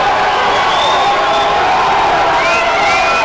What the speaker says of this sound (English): Crowd is really woken up for Adam Kerr